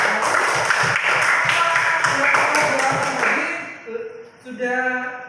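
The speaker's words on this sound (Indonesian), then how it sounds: "tepuk tangan untuk Dina tadi" Classroom clapping for a student named Dina fills the first few seconds, a brisk patter of hands from a group of pupils that fades out as a voice begins speaking.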